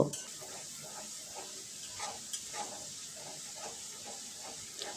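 A ground spice paste for dhaba-style masala paneer is sautéed over medium heat, giving a soft steady sizzle and hiss with occasional light stirring scrapes, quiet and close.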